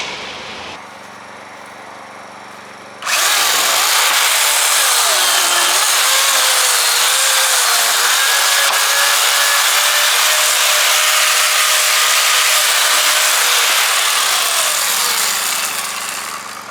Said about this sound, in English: I use an electric chainsaw because I don't like to do this all frickin' day.